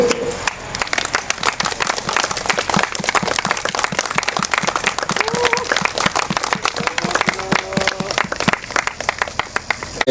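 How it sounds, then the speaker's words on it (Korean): An outdoor proclamation ceremony for a pilgrimage group at an expo park draws sustained applause from a crowd, dense rapid clapping throughout, with a few faint voices rising over it. "박수 쳐주고 감사해 주면 좋겠습니다."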